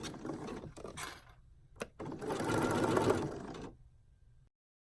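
A sewing machine top-stitches a seam on a pinafore in quiet bursts, a couple of short runs and pauses followed by a longer steady whirring stretch, then stopping.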